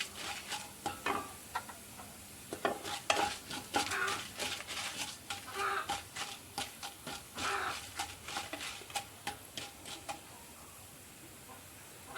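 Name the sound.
frying mustard seeds, dried red chillies and urad dal in a pan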